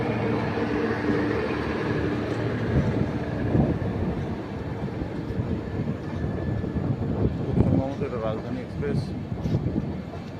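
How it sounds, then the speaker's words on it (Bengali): A passing train rumbles and rattles steadily for several seconds, heard from nearby outdoors on a cool morning, with faint voices in the background. "চলুন আমরা ট্রেনের দৃশ্য দেখি"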